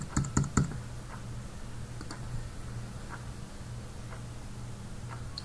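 Several quick, sharp keystrokes on a computer keyboard at the start while sign-in credentials are entered, followed by a few isolated faint clicks over a steady low hum.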